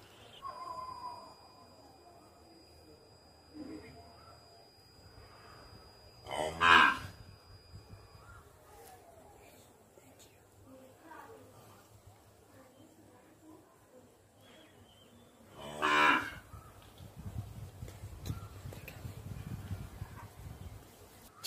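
A calf moos twice, each call a loud, drawn-out bellow close by with long quiet gaps between, and a soft rumble of low background noise near the end.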